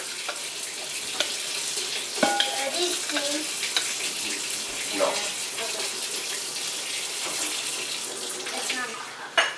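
Cold water runs steadily from a kitchen tap, a continuous close hiss and splash with small clinks, while people talk briefly over it.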